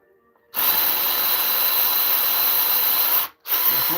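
An impact wrench loosens the oil pan plug on a 2008 BMW X3 during an oil change. It runs in a loud, continuous buzzing whir for nearly three seconds, cuts out briefly, then starts again close by.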